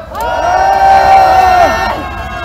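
A protest crowd outside the Bank of Korea cheers and shouts together while tearing papers, a loud swelling roar of many voices with bright whoops that holds steady for a couple of seconds and then eases slightly.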